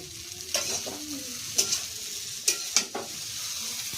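Chow mein with beet and carrot sizzles steadily in a pan on a village cooking fire, with sharp scraping stirs breaking through the hiss at irregular intervals. No one speaks.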